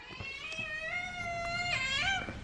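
A domestic cat meows in a long, drawn-out, singing wail that rises and bends in pitch, moderately close and with no voices over it.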